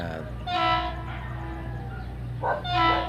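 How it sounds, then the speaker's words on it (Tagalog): A PNR train on the Lucena, Quezon to Laguna run rumbles past close by, with a steady low roar of the cars and two tonal horn blasts, one early and one near the end. "Update guys sa tren na bumabiyahe dito sa amin sa Lucena City."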